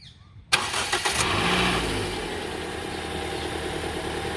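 A 2014 Toyota Corolla Altis GL petrol engine cranks briefly after a short quiet moment, catches with a loud burst and settles into a steady, even idle close by.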